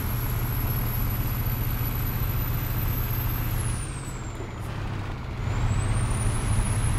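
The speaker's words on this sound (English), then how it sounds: "the truck is really laboring because of the actual load" A Kamaz 5410 truck with standard engine hauling a trailer in Euro Truck Simulator 2, its engine droning steadily and laboring under load, with a high whine that dips and rises around a gear change, loud and continuous without talk.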